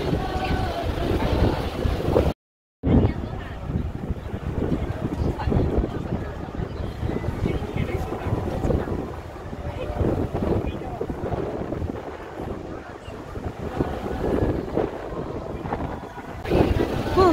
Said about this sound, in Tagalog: Ang hangin guys, grabe ang hangin